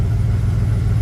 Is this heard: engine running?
yes